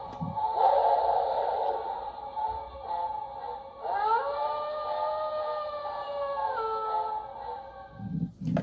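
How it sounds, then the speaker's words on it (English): A vintage Spirit Halloween Wolfman doll prop plays a loud electronic wolf howl that rises and holds a wavering tone, framed by rough growling before and after, close up. "It's just howling and growling in it."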